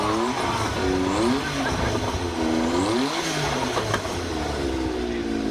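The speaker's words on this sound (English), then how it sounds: "Some revs from the Jaguar." A Jaguar sports car engine revs up and down in loud, rising and falling sweeps at a supercar parade, close by, with a steady rumble underneath.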